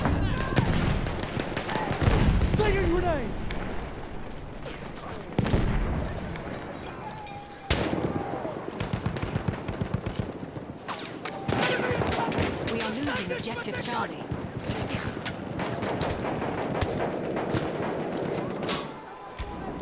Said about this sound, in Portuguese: Machine gun! Yes. Artillery! Artillery!